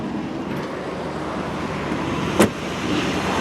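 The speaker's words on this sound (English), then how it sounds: "Nice solid sounding door when you close it." A single sharp, solid thud of a 1988 Mercedes-Benz 560 SL Roadster door shutting cuts through steady outdoor traffic noise.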